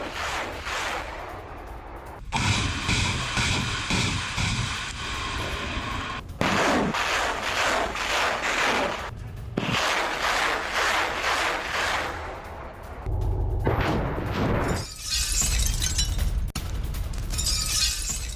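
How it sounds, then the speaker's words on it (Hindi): War footage of a Grad multiple rocket launcher attack: a continuous run of loud, rolling, crackling blasts and roaring bursts with sharp cutoffs between segments and no speech. "ग्रैड रॉकेट लॉन्चर से विध्वंसक हमला किया गया"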